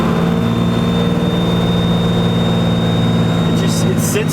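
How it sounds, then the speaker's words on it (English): Inside a car fitted with compound turbos, the engine drones steadily under acceleration with a rising turbo whine layered on top, loud and close, continuous throughout. "You can hear that turbo clear as day when you get on it."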